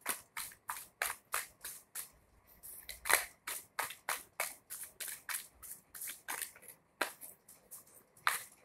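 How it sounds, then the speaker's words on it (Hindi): Tarot cards being shuffled by hand, a rapid series of crisp riffling bursts repeating in steady rhythm, close and clear, with brief pauses between runs and no talking. "एक बार और शफल करेंगे।"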